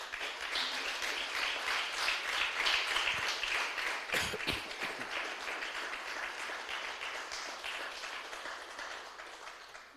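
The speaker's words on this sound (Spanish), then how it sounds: "Denle un aplauso fuerte al Señor, aleluya." A church congregation in a Spanish-language service applauds loudly, producing a thick, sustained roar of many hands clapping with a couple of low thuds midway, gradually tapering off toward the end.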